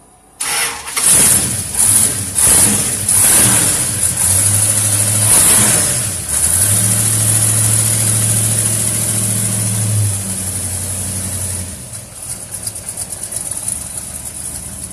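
Car engine cranks and catches indoors, then revs in loud bursts before settling into a steady, rumbling idle that fills the room, with a brief drop and rougher running near the end.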